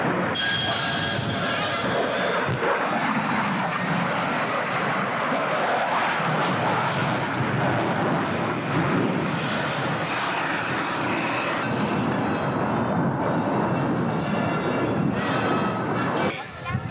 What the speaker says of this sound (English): Let's watch them as they dive the F-14s down for the TAC turn demo.